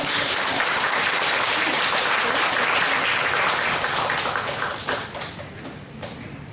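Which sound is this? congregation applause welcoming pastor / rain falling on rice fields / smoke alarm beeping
congregation applause welcoming pastor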